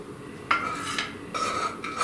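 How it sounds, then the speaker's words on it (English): A spoon scrapes and stirs cornflakes into a sticky mixture in a pot for chewy bars, with a few soft scraping strokes against the metal, close and fairly quiet. "I'm gonna mix it all up until the cornflakes and this mixture in the pot"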